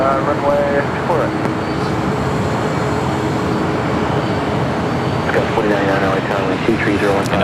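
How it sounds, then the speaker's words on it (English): A United Boeing Dreamliner taxis at LAX, giving a steady broadband jet hum and whine at moderate distance that runs continuously beneath a person talking. "United Dreamliner making that left-hand turn onto Bravo, heading to 25 right"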